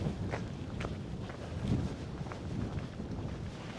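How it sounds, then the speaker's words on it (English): Wind blows across a microphone on a windy hilltop, a constant low rumbling buffet with faint scuffs like footsteps, heard alone without talk. "Well, it's very windy on top of this hill."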